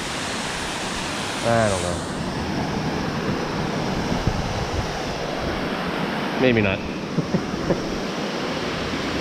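Continuous roar of a waterfall outdoors on a cold 18-degree day, a loud broadband rush with some wind buffeting on the microphone, while a person speaks briefly a couple of times over it.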